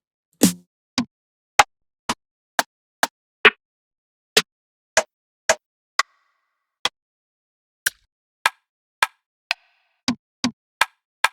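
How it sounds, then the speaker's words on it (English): Sharp, dry rim shot hits struck one at a time, about twenty crisp clicks with short gaps and no other sound between them. "Let me use that rim. I like that rim sound."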